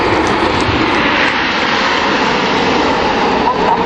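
Red Arrows jets roar through their display at the Sunderland International Airshow in 2014. The loud, steady engine rumble fills the whole stretch without a break.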